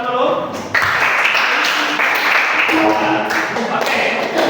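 Audience clapping together after a presentation of Gorontalo food, a dense steady applause that fills the room, with voices audible mixed in.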